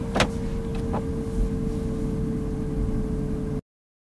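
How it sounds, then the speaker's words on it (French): Steady low road and tyre rolling noise inside a Honda FCX Clarity fuel-cell car while driving, with a constant hum and a couple of faint clicks early on, no engine roar. "Donc on n'entend que les bruits de roulement sur la voiture."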